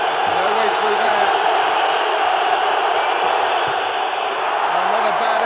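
Arena crowd roaring and cheering at a Serbia versus Denmark handball match at EHF EURO 2012, a loud, dense, sustained roar throughout, with voices audible in the mix.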